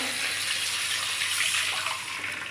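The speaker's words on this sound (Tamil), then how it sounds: "இதில் ஒரு டம்ளர் தண்ணி ஊற்றிக்கலாம்" A tumbler of water pours into a hot pan of fried urad dal and curry leaves, making a steady gushing, hissing wash that holds for a couple of seconds.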